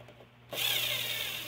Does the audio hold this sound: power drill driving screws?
yes